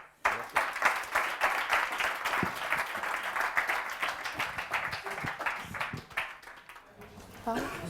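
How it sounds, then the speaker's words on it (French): Audience at a student campus-design challenge presentation applauds the presenters, a dense, sustained round of clapping from a room of people that tapers off near the end as a voice begins speaking. "on peut les applaudir"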